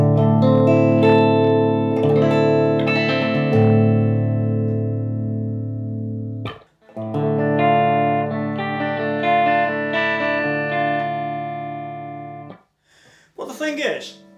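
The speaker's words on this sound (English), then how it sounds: "if you have a listen to it, in fact, it's a very clean amp" An electric guitar played through a clean Ventura 65 amp rings out sustained chords in two long phrases separated by a short pause, bright and undistorted, with a brief bit of voice at the very end.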